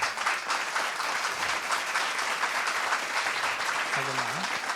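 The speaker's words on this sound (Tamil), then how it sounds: "அந்த பொண்ணுக்கு ஒரு நிமிஷம் இடைவிடாத ஒரு கைத்தட்டு கொடுங்க" Steady, dense applause from an audience clapping for a girl at a Tamil children's language competition, continuous and loud throughout with no pauses.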